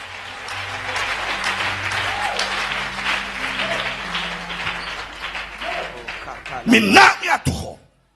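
A church congregation applauds and cheers to acclaim the Lord, steady crowd clapping mixed with voices and music throughout, building to a louder burst of cheering and shouting near the end before cutting off.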